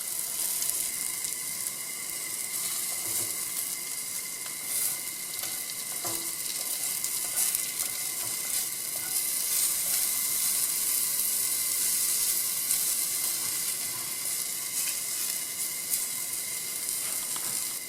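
Polypore mushrooms fry in high smoke point olive oil in a pan, giving a steady, even sizzle that runs without a break from start to finish, with no voices over it.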